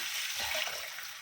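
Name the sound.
water poured into pot of fried moong dal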